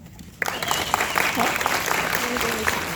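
An indoor audience at OMSI breaks into applause to welcome a speaker, a sudden swell of steady clapping that starts after a brief quiet moment and holds strong, with some voices mixed in.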